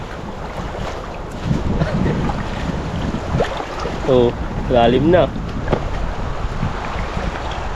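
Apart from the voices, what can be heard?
strong wind blowing on an umbrella by the sea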